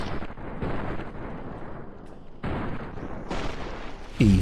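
Gunshots from a regular gun fired in VATS in Fallout: New Vegas: heavy, booming reports with long rumbling tails, a few spaced impacts rising to a loud final blast.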